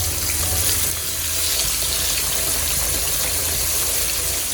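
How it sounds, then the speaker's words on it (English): Pork chops sizzling in hot oil in a skillet, a steady, dense frying hiss close by with a low rumble underneath, continuous throughout with no talking. "we're going to let these fry for about 5 minutes on this side"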